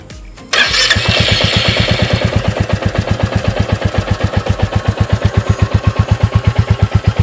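A Royal Enfield Classic 350 motorcycle starts after a short quiet moment, then its single-cylinder engine settles into a loud, close, evenly thumping idle that beats quickly and steadily to the end.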